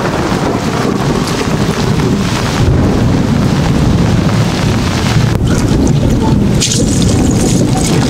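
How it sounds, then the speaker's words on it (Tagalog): Heavy rain pours during a typhoon at a crab-catching spot, a dense, loud, continuous roar with wind buffeting the microphone and occasional gusts, no voices. "Grabe ang lakas ng ulan"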